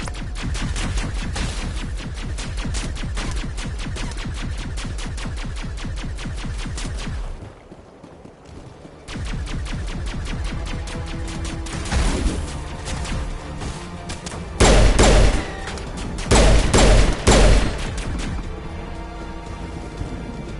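Rapid, dense volleys of gunfire crackle in a close crossfire on Virmire in Mass Effect, with a short lull midway before heavy bursts and booming shots resume.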